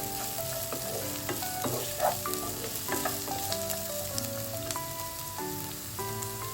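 Carrots and capsicum frying in a little oil, a close, steady crackling sizzle with light stirring taps and scrapes throughout, no talking.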